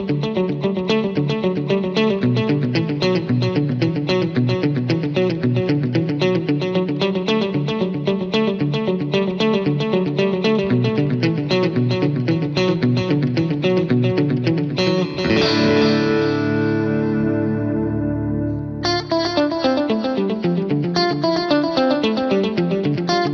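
Electric guitar through a Boss GX-100 preset with dotted-eighth delay, rapid rhythmic repeating notes that cascade continuously, briefly blooming into a ringing sustained chord before the pulsing delayed pattern resumes, loud and close.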